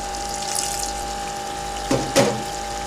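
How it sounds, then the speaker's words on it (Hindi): Water pours into a pan of shahi korma as it cooks, a steady running stream that ends in two brief, louder splashes. "इसके साथ ही हम इसमें थोड़ा सा पानी ऐड करेंगे"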